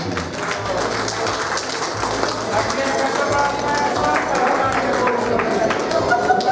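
Wedding guests applauding for Agnieszka at a Polish wedding reception during the unveiling games, a steady wash of clapping held for several seconds over dance music and crowd chatter.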